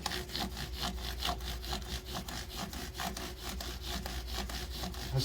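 Steady rhythmic rasping of abrasive strokes on the frets of a 2018 Gibson ES-275 guitar during fret levelling, quick back-and-forth scrubbing repeated many times at close range with no talking.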